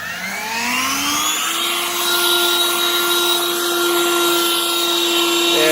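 A Harbor Freight 40 volt Lynxx cordless leaf blower spins up from a rising whine into a steady, loud electric whir with a high tonal hum, running alone close by.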